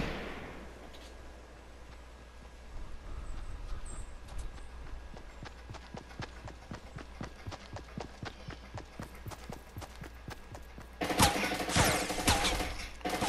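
Fortnite gunfire sounds as a long run of quick, evenly spaced shots that seem distant and muffled, ending in a louder, harsher burst near the close.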